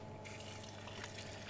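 Water poured gradually into a bowl of 00 flour batter for frying chicken, a steady continuous pouring and trickling wash that fills the short stretch, close and fairly quiet with no speech.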